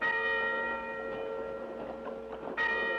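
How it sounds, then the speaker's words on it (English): Church bells ring the noon Angelus, their sustained, overlapping tones humming steadily and loudly, with a fresh strike swelling up near the end. "Church bells? This ain't Sunday."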